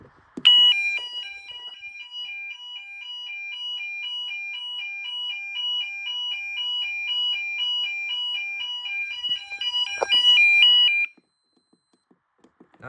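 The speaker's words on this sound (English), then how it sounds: "Now let's sound the alarm." A home bedroom fire alarm system sounds indoors with a loud, piercing two-tone warbling electronic tone that cycles steadily for about ten seconds before cutting off abruptly, with no talking.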